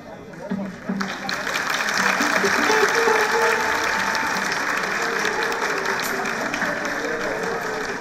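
An audience at a teacher singing contest final breaks into loud sustained applause, swelling after the first second and holding steady to the end, with faint voices underneath.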